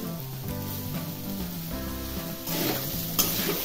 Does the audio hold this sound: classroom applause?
no